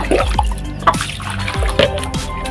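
Water is poured and splashes into a drinking container for backyard chickens and rabbits in a rural yard, loud and close, with gurgling trickles and several distinct splashing bursts.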